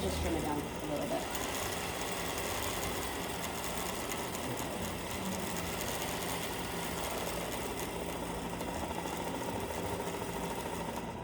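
Sewing machine winding a bobbin, a continuous, even mechanical whir running at steady speed throughout, close and moderately loud with no pauses.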